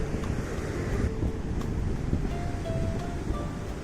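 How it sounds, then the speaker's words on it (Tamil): Strong sea wind buffets the microphone on a bridge or breakwater out over the sea, a loud, rough, continuous rumble and roar with no voices. "இந்த காற்று கொஞ்சம் அப்படி தான் இருக்கும்."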